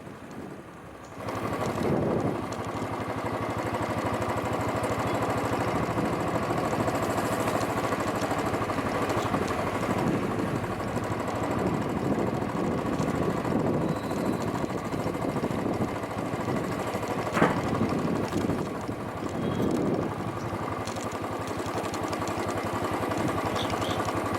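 A motorcycle engine drones steadily during a ride along rural roads through the eastern valleys of the Western Ghats, with wind buffeting the microphone over the continuous close hum.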